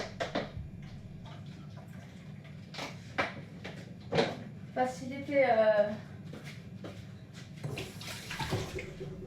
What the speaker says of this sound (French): Je vais rajouter juste un petit peu d'eau pour faciliter.